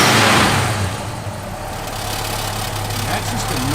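A 1972 Dodge Charger Rallye engine fires up with a loud burst, then settles into a steady, low idle rumble that continues close by.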